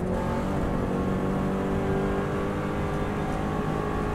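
Subaru WRX STI engine held flat out at high speed on the Isle of Man road course, a loud, steady, continuous roar with a dense even drone filling the whole stretch and no break or gear change.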